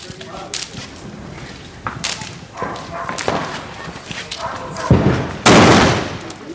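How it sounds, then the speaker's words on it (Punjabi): A string of sharp Diwali firecracker pops crackles irregularly in Punjab, then a bigger, louder blast bursts near the end, over a noisy outdoor background. "ਕੰਨ ਖੋਲਦੇ ਨੇ ਪਟਾਕੇ ਜੀ"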